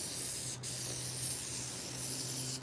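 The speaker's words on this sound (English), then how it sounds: "I'm just spraying my tools down using. I got this at the dollar store." Liquid is misted from a dollar-store spray bottle onto grooming tools, producing a continuous soft hiss under a low background hum, with one brief sharper burst.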